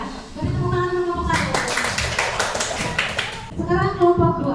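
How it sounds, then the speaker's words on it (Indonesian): Schoolchildren in a classroom clap for a student group during a science lesson, a short run of quick, close hand claps in the middle, with a teacher and children talking before and after. "beri tepuk tangan untuk kelompok"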